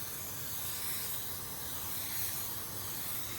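Paint sealer sprayed from a gun over filled rock chips on a car body gives a steady, continuous hiss that holds at an even level throughout, with no talk.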